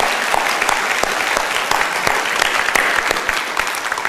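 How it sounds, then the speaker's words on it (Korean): A church congregation claps in encouragement for its members, steady, dense applause from a full room sustained at even loudness throughout, with no voices standing out. "우리 함께하는 교회 가족들을 위해서 한번 격려의 박수 보내드리면 좋겠습니다"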